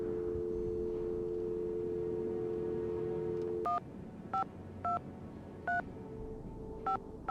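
Touch-tone telephone dialing in the Nancy Drew mystery game Treasure in the Royal Tower: a steady dial tone cuts off, then five short DTMF beeps follow at uneven intervals, clear and close.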